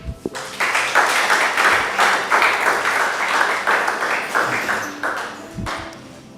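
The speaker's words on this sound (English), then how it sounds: "May we give a round of applause again to our speaker, Mr. Henri-Fabrice." An audience at a talk claps steadily for several seconds for the speaker, a dense sustained applause that tapers off near the end.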